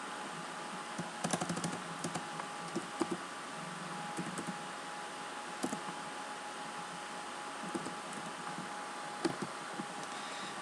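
Fingers type code on a computer keyboard, producing a steady run of close, crisp key clicks with occasional louder strokes over a constant hiss, and no talking.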